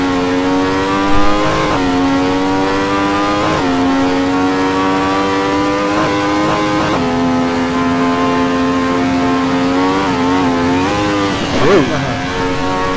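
A Ferrari 312T race car engine in a racing game on the Nordschleife howls at high revs, holding a steady tone with repeated dips and climbs as it shifts gears, while a commentator talks over it.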